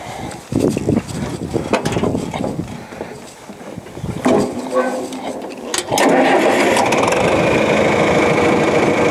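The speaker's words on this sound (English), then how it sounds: "we let the tractor turn it and we guide it down" A tractor engine starts with a rough, rattling crank, then settles into a loud, steady running rumble, while the tractor turns and drives posts into the ground building a hopyard.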